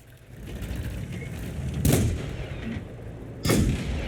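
Two heavy cannon shots from an LT vz. 38 tank in World of Tanks, about a second and a half apart, each a loud blast that fades into a mechanical rumble under a steady engine drone.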